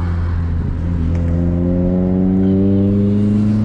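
Chevrolet Celta with a 1.0 engine and bucket seats, close and loud as it accelerates, engine tone rising smoothly over a few seconds with no talk.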